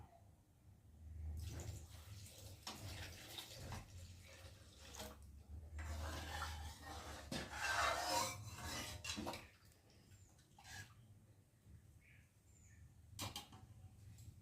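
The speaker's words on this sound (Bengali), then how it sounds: "আর এখন জল দিয়ে দেবো।" Water is poured into dal cooking in a pot, a soft running splash at moderate distance with some faint clinks of utensils, no speech.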